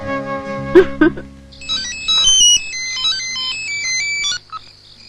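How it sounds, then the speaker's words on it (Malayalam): A phone plays a melodic electronic ringtone, bright rising and falling tones after a couple of brief clicks at the start. "ഫോൺ വിളിക്കുന്നു."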